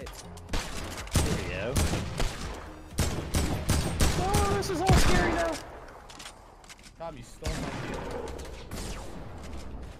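Rapid bursts of gunfire from Fortnite, a video game, crackle in dense clusters at close range, with louder volleys in the middle and people talking over the shooting.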